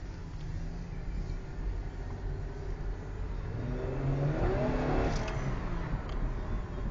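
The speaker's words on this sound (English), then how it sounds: "the six-cylinder does have some pretty good pep" A 2010 Chevrolet Camaro with a V6 engine accelerates on a test drive, its mid-pitched engine hum building steadily and rising toward a louder peak before easing slightly, heard from inside the car with no talking.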